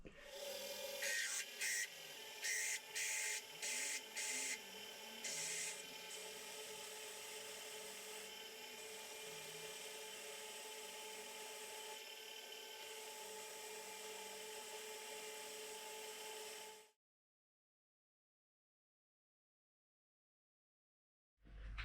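A brand new drill bit from a set bores into metal on a lathe for a tailstock build, giving a steady sustained grinding whine with some rasping scrapes at the start, running continuously before it stops abruptly into silence.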